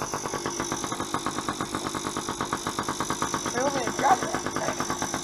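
A small motorcycle engine runs steadily with a regular pulsing throb, close by, while people talk over it.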